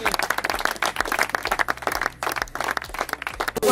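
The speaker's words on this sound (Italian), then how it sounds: "Facciamo un applauso, grazie." Applause at a presentation for the Atletico Castenaso football club's new season: many hands clapping in quick, uneven bursts, close and lively, with voices mixed underneath.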